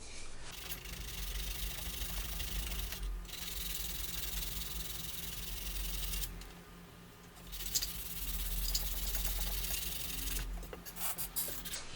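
Hand sanding the rounded edges of a guitar body, including walnut, with 180 grit sandpaper: steady close rasping strokes running nearly continuously, with a brief pause partway through.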